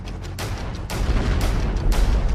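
A rapid series of heavy booms and blasts from Israeli strikes in Lebanon, loud and rumbling, with several sharp onsets overlapping into a continuous roar.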